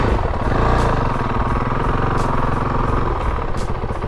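A motorcycle fitted with a JD Jetting fuel controller runs during a slow-race riding test, its engine giving a steady, close, throaty drone with no talking.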